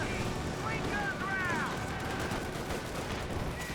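Gunfire crackles continuously through a dense Company of Heroes WWII battle, with stormtroopers, bazookas and an M15 in the fight, a steady rattle of shots under a busy, noisy mix of battlefield sound.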